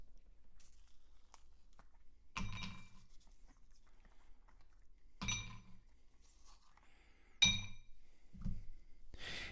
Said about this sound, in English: I'm going to put some ice inside the rocks glass.